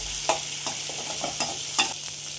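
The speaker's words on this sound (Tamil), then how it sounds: "அதையும் இது கூட போட்டு நல்லா வதக்கிக்கோங்க" Small onions sauté in oil for brinjal kuzhambu, a South Indian eggplant curry, with a soft continuous sizzle broken by a handful of spaced stirring scrapes at close range.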